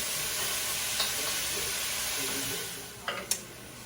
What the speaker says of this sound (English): So we're going to deglaze. And I deglaze with some red wine.